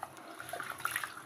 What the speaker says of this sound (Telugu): ఇదిగోండి రైస్ కడుక్కుంటున్నాం మంచిగా